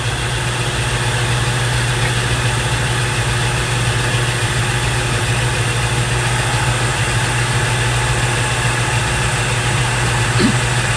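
A lathe turning a spindle diameter for a carriage stop runs with a steady, even mechanical hum and drone, with no change in pitch and no talk over it.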